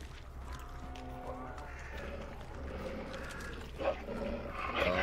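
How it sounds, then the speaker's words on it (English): Dogs growl and snarl in the video game Hunt: Showdown, low and rumbling with a couple of sharper bark-like bursts near the end, under faint ambience. "Dogs."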